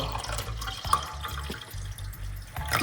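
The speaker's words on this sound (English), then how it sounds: "then I'm going to put some room temperature water" Room-temperature water pours into a glass holding lemon juice, a soft close splashing and gurgling trickle with small bubbly plinks, fairly quiet and alone.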